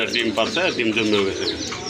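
A pair of pigeons at a sale, cooing in soft throaty rolls close by, with someone talking over them almost throughout.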